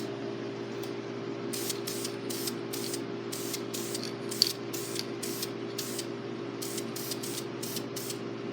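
Short bursts of aerosol spray paint hiss onto an RC car chassis in a quiet room, about a dozen evenly spaced puffs over a steady low hum, close and alone with no talking.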